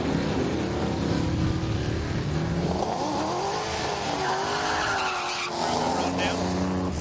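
1970 Chevrolet Nova running the quarter mile at a drag racing event in Great Bend, Kansas, a loud engine roar climbing and falling in pitch as the car passes, over constant crowd and track noise.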